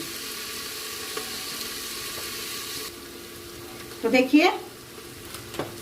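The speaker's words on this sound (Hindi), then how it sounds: "तो देखिए प्याज और आलू और मतलब सारी सब्जियां जो है हमारी फ्राई हो रही हैं।" Onions, potatoes and mixed vegetables for veg biryani sizzle in an open pressure cooker, a steady hiss that softens partway through. Someone speaks briefly over the frying, and stirring clatters follow.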